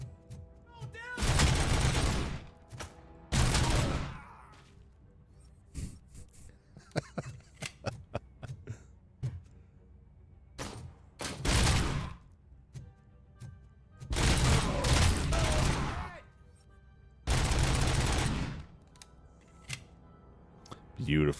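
Automatic gunfire from a Robocop: Rogue City firefight, loud bursts of rapid shots in several clusters with quieter single pops between them, spoken commentary running along underneath.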